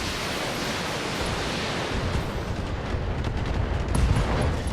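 Inferno rocket launchers firing at a mech in the video game BattleTech: a dense, continuous roar of blasts and rumbling explosions that grows heavier toward the end, loud and unbroken, with no voices.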